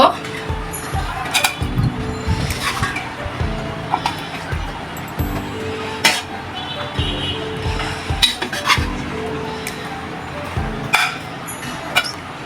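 A spoon clinks and scrapes against dishes while hilsa pulao is served, with scattered sharp metallic taps and clatters at irregular intervals under a person talking.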